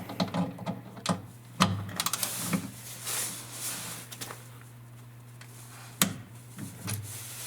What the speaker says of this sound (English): We will start tightening from the front bolts.